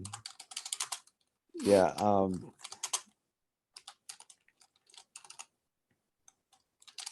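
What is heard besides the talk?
typing on a computer keyboard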